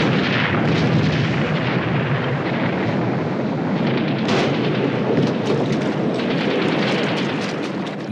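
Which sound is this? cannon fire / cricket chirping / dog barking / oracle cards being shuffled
cannon fire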